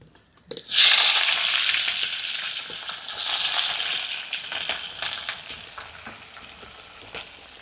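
Chopped onion drops into hot oil seasoned with cumin, dry red chilli and bay leaf, bursting into a loud sizzle that settles into a steady hiss with stirring scrapes.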